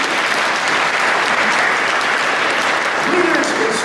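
A commencement audience claps loudly and steadily throughout, with a voice speaking faintly under the applause near the end.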